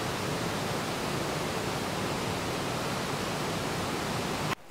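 A waterfall beside the Appalachian Trail in Georgia gives a steady, even rush of broadband noise heard close by, unbroken for several seconds and cut off abruptly at the end.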